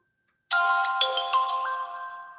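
Phone ringtone of an incoming call in the mobile game Duskwood, a bright chiming melody that starts abruptly after a brief silence and rings on clearly.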